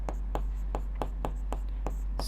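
Chalk or marker taps and strokes on a board during a class 10 maths lesson on real numbers, a regular series of short, crisp marks over a constant low hum.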